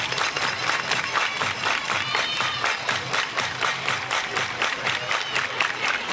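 Spectators at a professional softball game clap in a steady, rhythmic unison beat, loud and sustained, with crowd noise filling the background.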